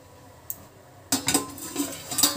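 A pan of cooking masala gets a lid: one soft tap, then a sharper clatter of metal on metal, followed by rattling cookware and utensil clinks nearby, with no speech.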